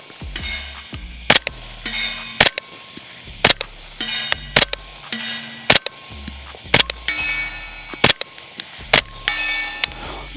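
A rifle magazine is emptied at targets during a night shoot: a dozen or so sharp, loud shots in an uneven rhythm. Bright metallic clangs and pings ring from struck steel after many of them.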